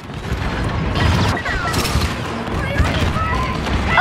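Sustained gunfire aimed at an AT-AT walker during a Star Wars Battlefront II battle on Crait, a dense, loud barrage of shots and booms over a rumbling din.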